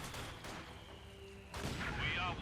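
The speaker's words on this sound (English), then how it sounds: "Taking loss there from certain mortar fire" Mortar rounds in Company of Heroes 2 land in muffled, distant booms during a World War II battle, with a sharper burst of explosive noise late on, under steady commentary.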